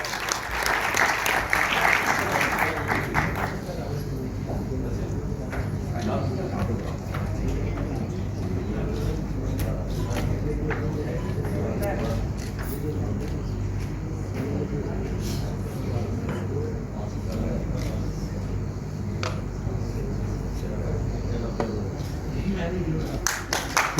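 Sustained audience applause fills a launching ceremony for an upcoming Pakistani film, loudest at the start and then settling into steady clapping with a host's voice and cheers over it.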